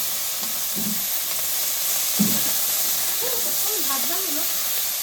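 Green chillies and pea greens sizzle together in a hot pan, a steady bright hiss running the whole time, with a faint voice murmuring underneath.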